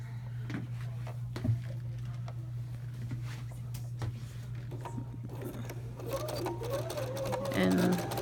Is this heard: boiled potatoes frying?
no